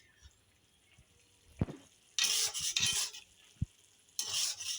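Prawns cooking with kakrol and potato in a pan give short sizzling bursts as they are stirred, with scraping and light clinks of the spoon between quiet pauses.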